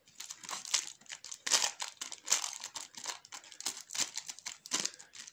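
Outer plastic wrapper of a foil-wrapped sweet being crinkled, close and fairly quiet, with irregular rustling pulses over several seconds.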